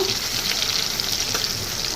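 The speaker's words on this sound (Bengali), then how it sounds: "হলুদ ছাড়া আজকে বেগুন ভাজা বসিয়ে দিলাম" Steady, close sizzling of eggplant slices frying in hot oil, a continuous crackling hiss with small pops throughout and no talking.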